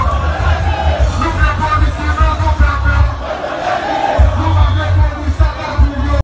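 A large crowd shouting in the street during a mass mobilisation, loud rolling yells and chants that swell and fade, close and dense throughout.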